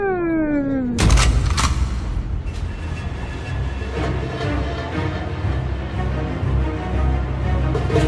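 A single loud sniper rifle shot cracks out sharply in a video game after a rising electronic tone, followed by steady background game noise and faint distant shots.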